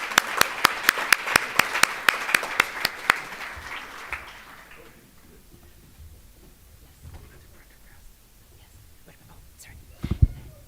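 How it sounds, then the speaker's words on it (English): Audience applause at a medical honor society induction ceremony in Chicago, heard as a brief burst of sparse, distinct claps that fade out within a few seconds, followed by quiet room murmur and a single louder knock near the end. "Let's give him a round of applause."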